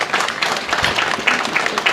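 Congregation applauding at a Catholic feast Mass, a steady wash of many hands clapping at moderate level for about two seconds, with no voices standing out.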